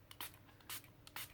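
Three quick hissing bursts of blue ink spray misted from a distance onto an art journal page, short sharp puffs separated by quiet gaps, faint and close.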